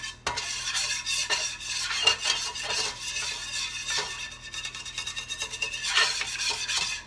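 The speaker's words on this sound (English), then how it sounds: "we're going to kind of stir this around" Green beans and vegetables are stirred in a hot cooking pan, a continuous scraping and rustling of a utensil against the metal with a faint sizzle underneath, close and steady.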